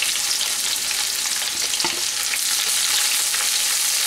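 Two medium sliced onions frying in a pan for a Kolkata-style doi chicken, a steady dense sizzle throughout with a faint clink of stirring near the middle, close and fairly loud, no voices.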